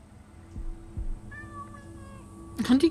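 A cat meows inside the game Assassin's Creed Origins, heard as a few close mews over a low ambient game background with faint tones.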